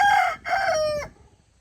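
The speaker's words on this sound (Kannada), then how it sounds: "ಕೋಳಿ ಹೇಳ್ತಾ ಇದೆ ನೋಡಿ" A rooster crows once, loud and close, a single drawn-out call lasting about a second with a brief break near the start, then quiet.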